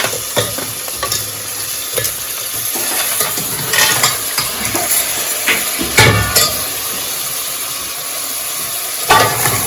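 Crab pieces hiss and sizzle loudly in a masala curry while being stirred, with scraping and clattering of a spoon against the pan in short bursts throughout, village kitchen setting.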